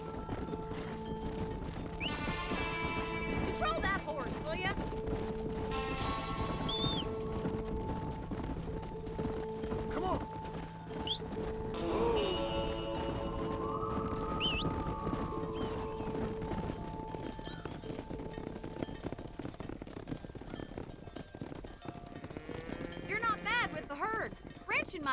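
Galloping horses in Red Dead Redemption give a long, steady run of clip-clopping hooves, broken by several loud whinnies and neighs, while voices talk intermittently over the herd.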